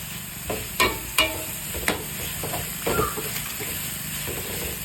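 Chicken biryani with plenty of coriander and mint being stirred in a pot, a few scraping clinks of the spoon over a steady soft sizzle, close and moderate in level.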